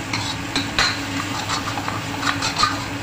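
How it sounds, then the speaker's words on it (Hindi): A spoon scraping and clinking around a pan as ground spice paste fries with a soft sizzle, irregular stirring strokes up close. "मसाले को हम अच्छे से भूनेंगे"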